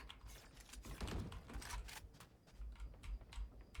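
Soft, rapid typing on a Gamepower Eva 5 60% mechanical keyboard, fairly quiet, with a continuous patter of key presses and no voices.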